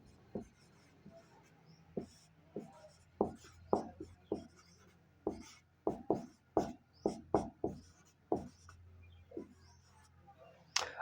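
Writing during a Class 12 physics lesson on the Wheatstone bridge: a steady run of short, scratchy strokes, close and clear, with no talking.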